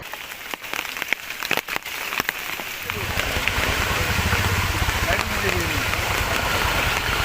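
Heavy, continuous rain during flooding in Noakhali town, a dense steady hiss that swells and stays loud from about three seconds on, with a low rumbling undertone.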